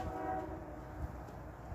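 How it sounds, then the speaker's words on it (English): A CSX intermodal freight train rumbles in the distance while a faint, drawn-out horn sounds over the low, steady roll of the train. "Sounds like he's giving a horn salute."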